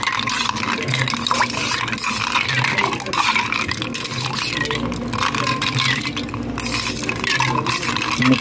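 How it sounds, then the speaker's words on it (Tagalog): A long spoon stirs a lemon and mint drink, giving continuous clinking and swishing against the container with steady rhythm, close and fairly loud throughout. "Kukuha tayo ng isang mahabang spoon para mamimix natin siya."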